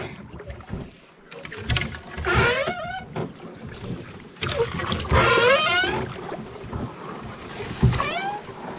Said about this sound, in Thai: มาพายเรือจ้ะ น้ำนิ่ง